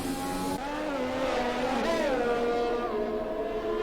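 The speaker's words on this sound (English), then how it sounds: "Two Ferraris following one another." Two Ferrari Formula 1 cars racing one behind the other through the streets of Monaco, their high-revving engines screaming steadily throughout, with pitch rising and shifting as they pass close by.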